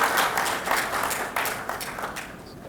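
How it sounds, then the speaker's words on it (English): Applause from the audience at a Jio True 5G launch event, a short burst of many hands clapping that tapers off toward the end. "So big round of applause to Supriya ma'am."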